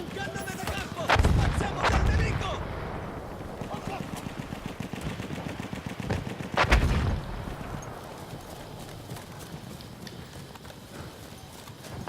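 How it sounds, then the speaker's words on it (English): A stationary machine gun in Battlefield 1 fires at the player amid battlefield noise, with heavy booming blasts and rattling bursts, loud and close, while a voice talks over parts of it. "Now I'm also being targeted by the stationary machine gun."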